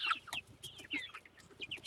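Chickens on a homestead clucking in short, repeated bursts, close by and fairly quiet, with soft farmyard rustle underneath and no talking.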